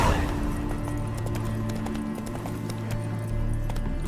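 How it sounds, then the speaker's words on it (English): Roach the horse galloping in The Witcher 3 video game, a steady, continuous clip-clop of hooves over a low, droning game score, no voices. "Run, Roach"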